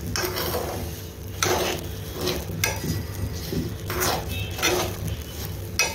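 Peanuts roast in salt in a pan over a low-to-medium gas flame and are stirred in repeated gritty scraping strokes, a dry rattling shuffle with soft clinks of the utensil against the pan.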